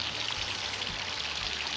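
Filtered water pours steadily through a hose into an RV's tanks at a campsite, a continuous broadband rush with a low rumble beneath and no talk.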